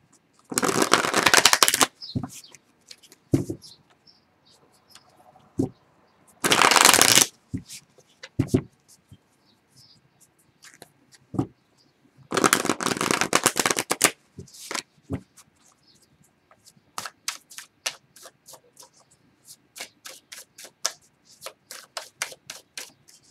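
A deck of tarot cards is shuffled by hand in several loud riffling bursts, each followed by a scatter of fainter taps and card clicks as the deck is squared and handled, with no talking.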